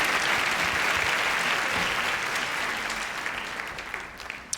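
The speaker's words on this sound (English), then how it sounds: "By round of applause, who knows a creepy Larry?" Comedy club audience applauding at a stand-up show, a dense, loud burst of clapping that holds steady and then slowly fades near the end.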